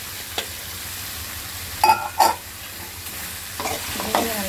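Sliced radish sautés with garlic and tomato in a pan for a radish and dried-fish curry, giving a steady soft sizzle broken by a few sharp spatula clanks and scrapes near the end, with no talking.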